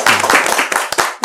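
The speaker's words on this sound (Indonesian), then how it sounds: "boleh tepuk tangan ya" A short burst of hand clapping at a school event, brisk and fairly close, lasting just over a second.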